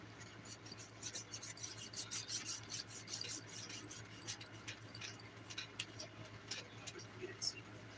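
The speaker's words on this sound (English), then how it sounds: "I'm using the 180 grit side of the file right here." Dip powder nails are filed with the 180 grit side of a nail file, giving soft, quick rasping strokes in rapid bursts, close but quiet, with a person talking intermittently over the scratching.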